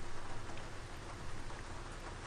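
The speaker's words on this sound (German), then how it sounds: "gehen wir mal aus dem Regen raus hier." Steady rain from the OMSI 2 bus simulator fills the scene, a dense, even hiss of drops on surfaces, continuous and fairly close with no other sounds.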